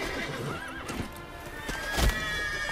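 Geralt's horse Roach in The Witcher 3 gives a clear whinny with rising and falling pitch, followed by hoofbeats clip-clopping close by over game background sound.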